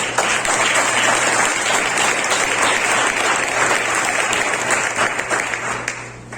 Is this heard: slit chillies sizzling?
no